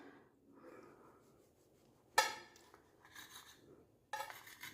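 A knife slices pieces of bread in half on a board, with faint scraping and sawing strokes, then sharper crisp cuts and clatters close by, separated by quiet pauses.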